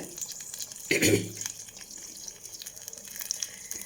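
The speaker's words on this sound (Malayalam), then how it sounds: "രണ്ട് ഗ്ലാസ് വെള്ളം ഒഴിച്ച് കൊടുത്തിട്ടുണ്ട്" Two glasses of water go into a cooking pot after rice preparation with salt, as a short splash-and-gurgle burst near the start followed by faint dripping and quiet kitchen clatter.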